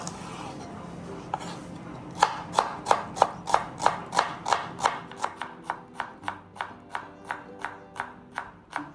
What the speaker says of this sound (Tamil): இந்த மாதிரி 3 வெங்காயத்தையும் வந்து சின்ன சின்னதாக வந்து இந்த மாதிரி ஸ்லைஸ் பண்ணிக்கிட்டாச்சு